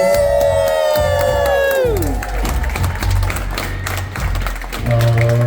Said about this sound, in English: Autumn and Jacob, I need you guys to make some noise